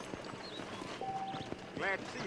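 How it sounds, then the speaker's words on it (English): Horses galloping in the Red Dead Redemption video game, a quick rhythmic clip-clop of hooves at moderate distance, mixed with faint game sounds and a short bright tonal chime. "is that a horse race?"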